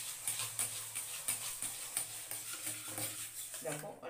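A spatula scrapes and stirs cake batter in a bowl for a homemade birthday cake, giving a quick run of soft repeated strokes and light clinks close by, fairly quiet, with faint voice traces in the background.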